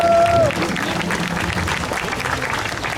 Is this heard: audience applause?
yes